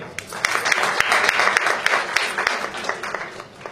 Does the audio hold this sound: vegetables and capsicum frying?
no